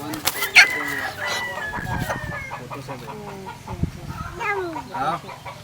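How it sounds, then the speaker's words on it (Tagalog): A native rooster and hens cluck and call close by, with guineafowl and Muscovy duck squawks and farmyard bustle mixed through the whole stretch. "Laki ng lalaki na manok. Manok."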